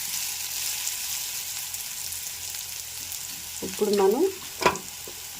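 Radish pieces for mullangi pulusu frying in oil produce a soft, continuous sizzle, with a voice briefly speaking over it near the end.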